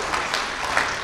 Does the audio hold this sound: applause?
yes